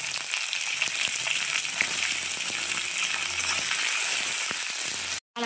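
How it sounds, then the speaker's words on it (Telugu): Onion frying in hot oil with urad dal, mustard seeds and cumin, a dense steady sizzle with faint crackles, close and continuous with no talking, cutting out briefly near the end. "అవి కొంచెం లైట్గా వేగిన తర్వాత మినపగుళ్ళు, ఆవాలు, జీలకర్ర బాగా ఫ్రై చేసుకోవాలి."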